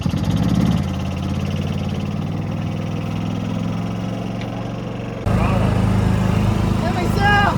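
A small minibike engine idles and runs outdoors at mid pitch, a steady buzzing drone that jumps louder toward the end as the throttle opens, with people talking over it.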